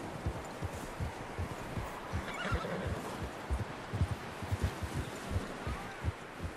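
Horse hooves clop steadily at close range in the video game Red Dead Redemption 2, with a short neigh rising over the continuous rhythmic footfalls. No one speaks.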